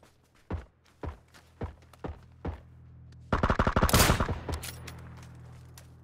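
Gunfire in a video game: a series of single, spaced shots gives way to a rapid automatic burst. The burst then fades over a steady low background hum.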